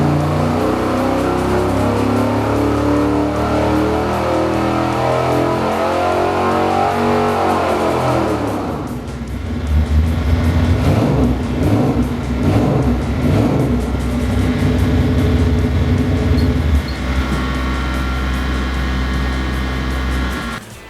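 A 454 big block Chevy V8 fitted with an Extreme Energy cam runs loud and close, a thick lopey rumble that shifts into heavier revving partway through before settling, with no voices.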